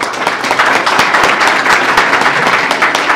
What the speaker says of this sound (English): Please round of applause for the panelists